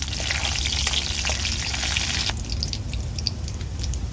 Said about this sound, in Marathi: आता लसूण ना मी लाल होऊस तर परतून घेणार आहे